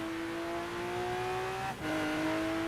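Lamborghini Aventador engine in American Truck Simulator, driven on a wintry road: a steady, sustained drone with a brief dip and gear-change-like drop in pitch before it holds again, fairly loud throughout with no talking.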